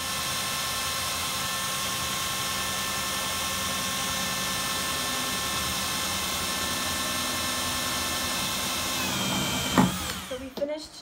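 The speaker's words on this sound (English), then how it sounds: "we're gonna be using a 22 millimeter drill bit to drill in circular holes" A power drill with a 22 mm bit bores circular holes into a plastic barrel, a steady loud whine running continuously for about ten seconds before stopping with a few clunks at the end.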